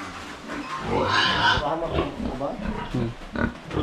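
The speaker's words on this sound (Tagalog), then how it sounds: "Ito po yung tatlo nating baboy, oh." Three farm pigs grunt and snort close by, low rough sounds mixed with a person talking over them.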